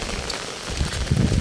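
Heavy monsoon rain falls outdoors at Palasdari, a short burst of broadband hissing with a low rumble, fairly close and with no talking.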